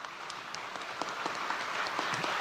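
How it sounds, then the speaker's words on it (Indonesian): Audience applause during a speech at Universitas Borobudur in Indonesia, a moderate, fairly thin patter of clapping from a hall audience, steady and not very lively across the short stretch. "Tepuk tangannya kan nggak meriah?"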